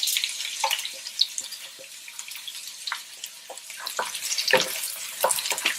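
Chopped onion frying in oil in a pan while cooking keema bhari shimla mirch, a steady crackling sizzle with scattered sharp pops and spits throughout, close and fairly quiet.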